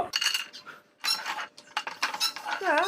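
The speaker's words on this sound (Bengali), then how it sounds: "এই ঘিয়ের মধ্যে প্রথমে কাজুটা দিয়ে দেব" Cashews are dropped into hot ghee in a kadai, with metal spoon clinks and scraping against the pan in short bursts. Brief soft sizzling and light handling sounds fill the gaps.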